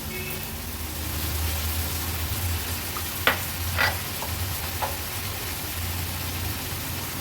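Snake gourd and tomato are tipped into a hot pan with dried shrimp, raising a loud, continuous frying hiss broken by a few brief scraping clatters of a spoon.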